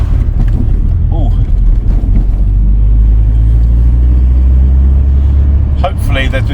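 A Mk3 Golf GTI with newly fitted polyurethane suspension bushes drives along, its engine and road noise a steady low rumble throughout, with creaks from the rear and a voice speaking briefly near the end.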